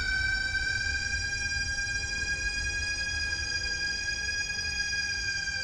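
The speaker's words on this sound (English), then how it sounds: "The siren sounds." A steady wailing siren from the video game From the Depths, its harmonic tones holding level and loud throughout with a low rumble beneath and no voices.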